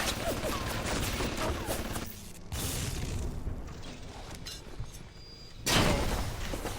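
Turret gunfire in BioShock rattles in dense bursts amid booming game noise, pausing for a quieter stretch before another heavy blast near the end.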